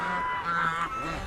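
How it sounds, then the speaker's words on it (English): Geese honk nearby in a short burst of nasal, overlapping calls against quiet surroundings. "stupid geese over there."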